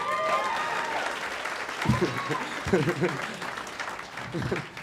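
A comedy-show crowd applauds in a scattered ripple of clapping while someone talks over it.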